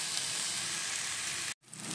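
Sago pearls hitting a hot pan give a bright, steady sizzle that cuts out sharply for a moment near the end, then builds back up, with no speech.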